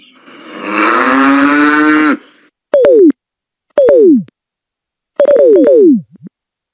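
A cow moos loudly and up close, one long drawn-out low then three shorter, falling calls separated by silence.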